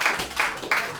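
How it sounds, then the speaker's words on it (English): Audience applause for performer Terry Wilford, a short loud patter of clapping heard up close that fades within about a second. "big applause for Terry"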